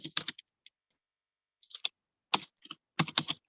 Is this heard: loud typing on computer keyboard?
yes